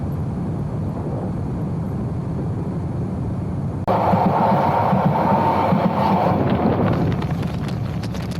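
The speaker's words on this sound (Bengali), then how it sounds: "বন্ধুরা, আমরা আছি এখন কক্সবাজার আইকনিক রেল স্টেশনে।" At Cox's Bazar railway station, a train rumbles steadily throughout, with broadband noise growing louder and heavier about halfway through as the train passes closer, joined by wind buffeting the microphone.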